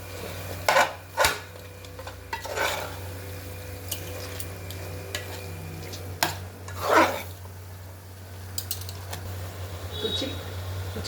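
Minced keema being mixed in a pan gives a few close scraping and clattering strokes against the metal over a low steady hum, with quieter shuffling between.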